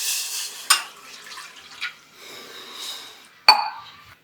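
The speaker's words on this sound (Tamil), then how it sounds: "நம்ம 1 டம்ளர் அதாவது 200 ml தண்ணி சேர்த்துக்கலாம்" About 200 ml of water poured into a pan for rose milk, a few short splashing pours with quiet trickling between, close and fairly soft, ending with a sharp clink.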